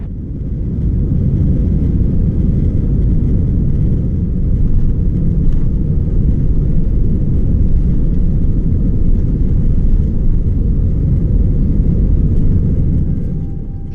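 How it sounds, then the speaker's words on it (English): Steady, loud low rumble of an AirAsia Airbus A320 on its takeoff run from Kolkata, a continuous roar heard from inside the cabin with no talk over it. "An aircraft takes off so fast that big buildings and houses turn into small white dots in fraction of seconds."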